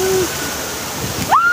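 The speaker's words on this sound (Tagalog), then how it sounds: "Ayan yung tubig, guys, oh! Ito ang tubig!" Water rushes and splashes on an amusement park ride, a loud broadband roar with brief shrill whistling tones at the start and end.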